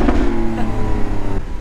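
A Lamborghini Aventador SVJ's V12 engine sounds loud and close, with a deep, steady droning exhaust note and layered tonal harmonics throughout, easing off slightly at the very end.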